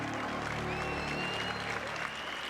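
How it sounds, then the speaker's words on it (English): Audience clapping at the Samsung Galaxy Unpacked event, steady, fairly faint applause heard at a distance, with a faint tonal sound running through it. "The people clapping are not journalists."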